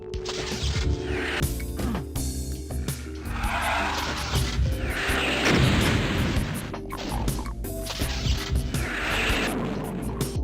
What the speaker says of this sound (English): Because the Super Shotgun isn't just iconic, it's perfection. The sound, the recoil, the absurd stopping power.